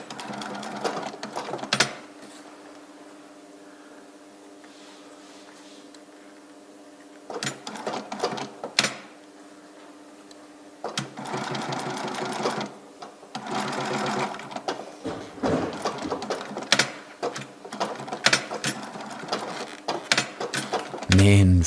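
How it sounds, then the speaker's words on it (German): Sewing machine stitching the upper of a classic running shoe by hand-guided feed, loud bursts of rapid mechanical stitching separated by pauses, with brief speech in the gaps. "Also man braucht eigentlich 3 Hände beim Nähen."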